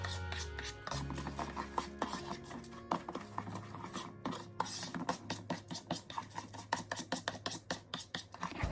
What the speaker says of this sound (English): we just crack an egg, put it in here, and mix it with the rice